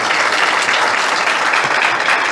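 Loud, dense applause from a church congregation at a worship service, sustained and even with no pauses, close and filling the room.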